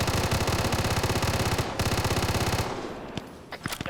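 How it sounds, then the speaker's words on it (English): A big gun in a video game fires rapid automatic bursts, loud and close, with a brief pause before a second long burst, then the firing stops. "That's a really big gun."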